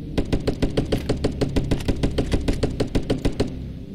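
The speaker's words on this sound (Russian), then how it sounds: "Сталкер того стреляет, а я вот этого постреляю" Rapid automatic gunfire in the Stalker Online video game, a steady burst of about twenty evenly spaced loud shots over roughly three and a half seconds, with no talk.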